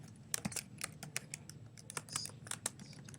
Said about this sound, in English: So I can type text,